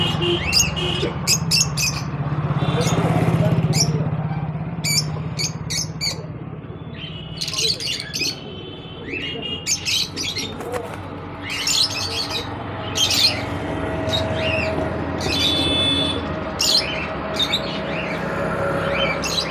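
Fancy pigeons call from cages inside a pet shop in Kolaghat, sharp chirps and squawks repeating in quick bursts over a steady low indoor hum, fairly close and loud throughout.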